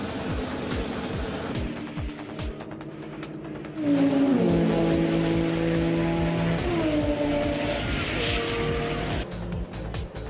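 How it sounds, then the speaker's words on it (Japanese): A natural-gas-fuelled Volkswagen Scirocco race car in Gran Turismo 5 at the Nürburgring 24-hour race, its engine droning and revving loudly with shifting pitch throughout, swelling to a stronger roar partway through, with no talk. "天然ガスを燃料にしたエンジンでクラストップを走るシロッコ"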